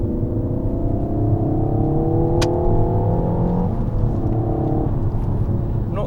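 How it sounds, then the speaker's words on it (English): Synthesized engine noise in the cabin of a 2019 Peugeot 308 GTI accelerating in third gear, a steady droning whir with rising tones that shift up partway through, heard continuously from inside with no talk. "it pumps synthesized engine noise into the cabin"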